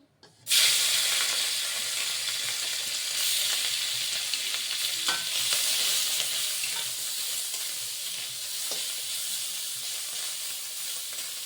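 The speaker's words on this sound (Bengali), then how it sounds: "প্রথমে আমি চিংড়ি মাছটা একটু ভেজে নিব, অল্প তেল দিয়ে" Shrimp frying in a little oil, a steady, loud, close sizzle that bursts in abruptly and hisses on without a break.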